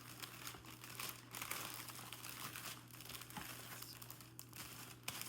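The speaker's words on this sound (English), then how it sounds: "So I'm going to try to fold it over just a little bit because it is definitely not straight." Paper wrapper with tape folded over on a DIY giant candy craft, giving soft continuous crinkling and rustling with a few sharper crunches, close by over a steady low hum, with no talk.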